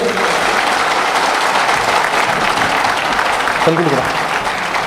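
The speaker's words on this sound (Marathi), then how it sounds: "मला असं वाटतं की एकदा जोरात टाळ्या पाहिजेत" An audience at a diabetes patients' conference breaks into loud, sustained applause filling the room, with a voice briefly heard near the end.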